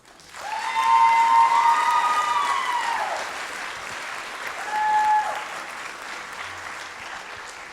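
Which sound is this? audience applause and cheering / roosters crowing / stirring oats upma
audience applause and cheering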